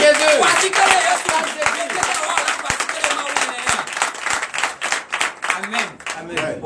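A church congregation at a Sunday service in Comè, Benin, claps in a steady rhythm while voices sing and acclaim Jesus together, the clapping bright and close throughout.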